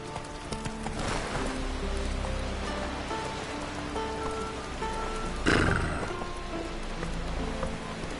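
Geralt's horse Roach in The Witcher 3 on PS4, faint hoofbeats and a whinny amid steady rain and a game score, continuous and even throughout with a brief louder burst partway through.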